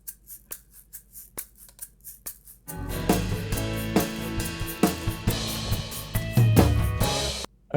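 Soloed shaker track in a mix, starting as sparse sharp rhythmic shakes before a full dense band passage swells in, loud and busy, with no voices.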